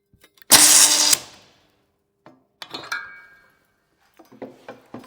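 A bolt welded onto a steel beam with a KÖCO stud welder: one loud, short hissing burst of under a second, then scattered metallic clanks and knocks nearby.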